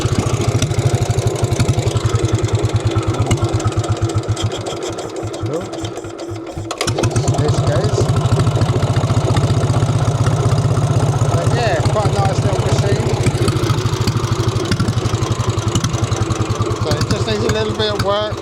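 An old J.A.P. engine chugs and idles with a rapid, even, fairly loud beat that briefly falters and dips before settling back into a steady run.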